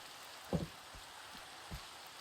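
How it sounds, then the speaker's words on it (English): Soft, steady rain patters in the background, with a few heavier drops and thuds standing out, and no voices. "Why is water dropping on me? Because it's raining."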